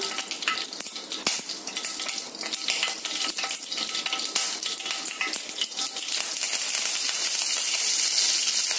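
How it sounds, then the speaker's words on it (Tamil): Mustard seeds and curry leaves frying in hot oil, a dense crackling sizzle with scattered sharp pops that grows slightly louder and steadier toward the end, heard close. "கடுகு கருவேப்பிலை வதங்கிடுச்சு"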